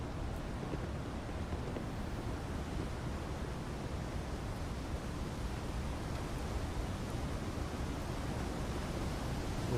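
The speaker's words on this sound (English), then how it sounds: "I hear waterfalls" Steady broadband rushing roar of a waterfall in the game Starfield, continuous and even in level throughout with no breaks, heard alone without talk.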